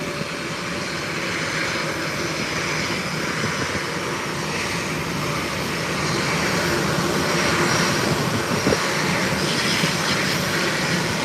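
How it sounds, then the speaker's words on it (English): An airliner takes off at an international airport with a continuous, broad jet roar heard from a distance. The roar swells slightly toward the end, with no talking. "Wait for this takeoff."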